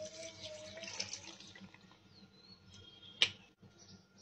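Cold water poured for a green mango juice, a soft watery trickle that is faint and steady, with one brief louder splash near the end.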